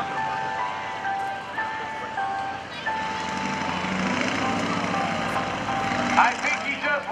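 An aerobatic airplane taxiing forward at the NAS Oceana airshow: a steady engine drone with whining tonal hum, moderately distant, swelling slightly toward the end amid crowd ambience.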